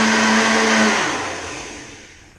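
A kitchen blender runs at full speed on homemade almond milk, loud and whirring, then spins down and fades over about two seconds.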